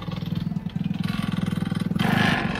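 A 600cc mini dune buggy engine idles nearby with a rapid, throbbing pulse, then rises briefly in pitch and loudness as the throttle picks up.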